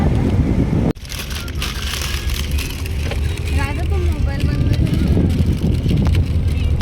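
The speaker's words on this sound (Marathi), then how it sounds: "हवा इतकी जोरात आहे ना." Strong wind blowing at a beach, roaring and buffeting the microphone in a continuous loud rumble from start to finish.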